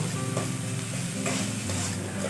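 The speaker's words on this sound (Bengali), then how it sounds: "এখানে আমি টমেটোটা খুব ভালোভাবে ভেজে নেব" Chopped tomato frying with salt in a pan, a close, steady hiss of sizzling with light stirring scrapes and no voices.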